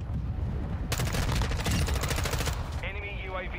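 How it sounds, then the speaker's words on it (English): Rapid shotgun blasts loaded with incendiary rounds in the Shoot House shooter, a dense burst of repeated shots lasting a couple of seconds, followed by a trailing electronic game tone. "The shotgun with the fire bullets, bro."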